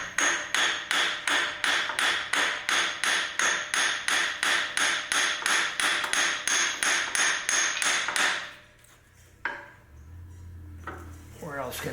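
Steady run of about twenty metallic hammer taps on the axle of a 1961 David Bradley tractor, evenly paced and close, ending abruptly before a few scattered softer knocks and rustles.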